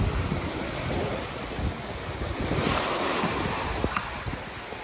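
Ocean surf washes onto a seashore in a continuous broad roar, with waves swelling and breaking close by and wind buffeting the microphone.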